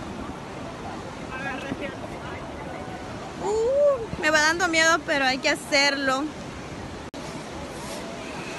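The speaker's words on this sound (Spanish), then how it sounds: "Nos vamos en lancha a dar un paseo." Motorboat ride at sea off a beach at El Cuco, San Miguel: constant wind buffeting and rushing water and engine noise fill the scene, while a person speaks briefly in Spanish partway through.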